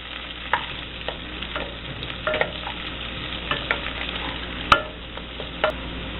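Minced garlic and lemon zest sizzle steadily in a pan for shrimp scampi, with scattered scrapes and clicks of stirring over the continuous frying hiss.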